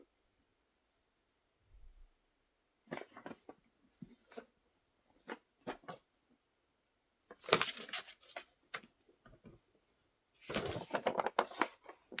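Pen writing on paper in a quiet room: faint, scattered scratchy strokes in short bursts separated by pauses, close but soft, with no talking.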